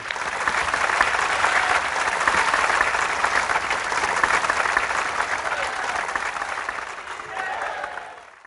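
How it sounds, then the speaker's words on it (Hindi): Loud, continuous audience applause at the Andheri sports complex in Mumbai welcoming a spiritual leader, a dense wash of clapping that holds steady and then fades out at the end. "तो आइए हम सभी खूब जोरदार तालियों के साथ स्वागत करते हैं महाराज जी का।"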